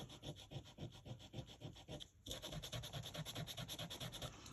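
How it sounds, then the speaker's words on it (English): Eraser rubbed briskly back and forth over ink on paper, a close, quiet, steady scrubbing rhythm of rapid strokes with one brief pause, no talking. "rubber again, my eraser, to get rid of that ink there"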